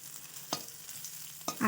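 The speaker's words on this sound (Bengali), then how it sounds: "আদা আর জিরে একসাথে ভাজা হয়েছে এত সুন্দর গন্ধ বের হচ্ছে দেখুন" Ginger paste and cumin frying in a pan for banana flower vorta, a quiet low sizzle broken by a few sharp scraping stir strokes.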